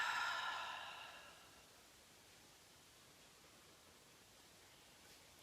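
A slow, audible exhale out through the mouth during a yoga meditation, a soft breathy rush in the first second and a half that fades into quiet room tone.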